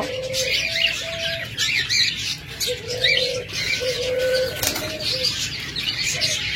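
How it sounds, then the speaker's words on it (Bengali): A pair of cockatiels in a cage, nesting with two eggs: repeated bird calls and chirps mixed with wing flapping and cooing from nearby birds, steady and fairly loud, with no talking. "এখানে দেখুন জোড়া ককাটাল রয়েছে ডিম সহ"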